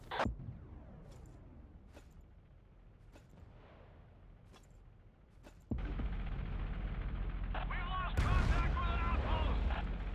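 An anti-aircraft turret fires in Battlefield 1942 as a string of sharp, separate game gunshots. A steady, loud engine-like roar then kicks in, with another heavier burst near the end.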